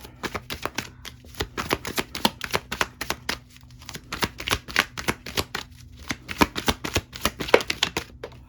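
Rapid riffling clicks of cards being shuffled, several quick bursts in a row, close up, with no talking.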